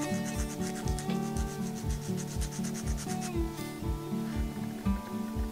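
Rhythmic rasping of a fingernail being filed on the file of a Tsume-O nail clipper, close and steady, with regular back-and-forth strokes about two per second that continue throughout.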